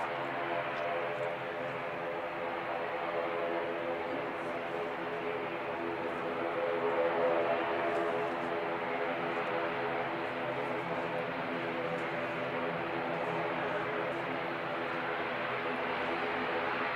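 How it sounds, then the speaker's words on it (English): ATR turboprop airliner departing Christchurch Airport for Dunedin, a steady propeller drone with layered harmonic tones holding at moderate distance throughout, swelling slightly midway, with no voices. "ATR heading off down to Dunedin."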